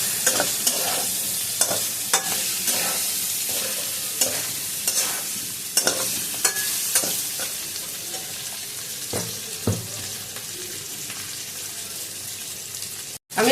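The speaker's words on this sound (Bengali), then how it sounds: "কচি আলুটা প্রায় ভাজা হয়ে গেছে আর একটু লাল লাল করে ভাজবো আমি" Young potatoes fry in a pan for a cauliflower and potato curry, a steady close sizzle broken by repeated scraping stir strokes at an uneven rhythm, with no talk, ending in a sharp clatter.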